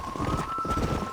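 Horse hooves clip-clop in a quick, steady rhythm at moderate volume in Red Dead Redemption, with no voices.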